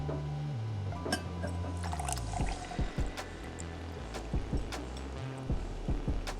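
Brewed coffee pours from a Moccamaster carafe into a cup in a close, continuous stream whose gurgling tone shifts as the cup fills, punctuated by a few light clinks, with no voices.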